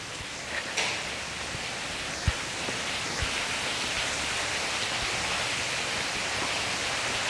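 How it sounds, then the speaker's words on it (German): Indoor wall waterfall at a hotel, a steady broadband rush of falling water that stays even and continuous throughout, with a few faint knocks near the start. "mit dem Wasserfall an den Wänden"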